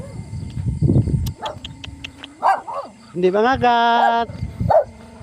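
Several dogs bark and yip in short bursts nearby during an early-morning walk, with a person talking between and over the barks.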